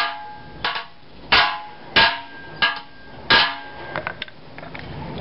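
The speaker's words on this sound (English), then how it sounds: "hammer it down here" Five sharp, evenly spaced hammer blows ring out close by as an aluminium bushing is driven into a Nissan 240SX, followed by a few lighter taps.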